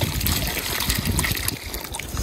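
A steady, close trickle of water poured onto the soil around a newly planted cherry sapling, splashing and dribbling continuously without pause.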